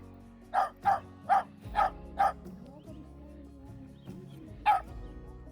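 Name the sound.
dogs barking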